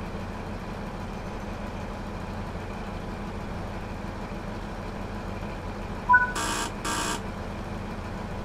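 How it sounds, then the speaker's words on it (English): In Train Sim World 4 on the Midland Main Line, the guard's departure buzzer sounds two short electronic buzzes in quick succession inside a train cab, over a steady low engine hum. "then you get the guard give you the buzzer to go"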